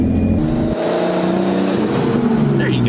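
A Nissan R32 Skyline accelerates hard, its engine note climbing in rising sweeps, loud and close from inside the car.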